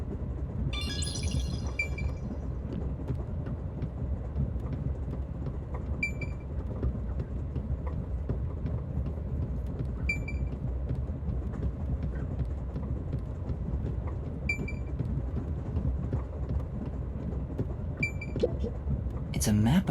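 Moving train rumbling in the Rain Code video game, a steady low continuous rumble throughout with occasional faint clicks and high tones over it.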